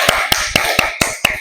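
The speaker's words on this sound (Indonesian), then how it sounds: "Oke, tepuk tangan dulu." A class of schoolchildren claps hands together in six sharp, evenly spaced bursts, each a crisp slap that rings out loudly in a classroom with no voices over it.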